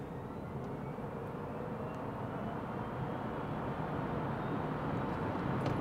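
A GWM ORA 03 GT electric hatchback in sport mode accelerating at full throttle from a town sign: steady road and tyre roar with a faint, slowly rising motor whine, gradually growing louder.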